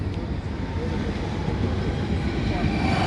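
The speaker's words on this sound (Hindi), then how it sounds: "ये ट्रेनें बड़ी चलती हैं इधर।" A train rolls past outdoors near a spot with shade trees, a steady loud rumble and rail noise filling the whole moment, unbroken from start to finish.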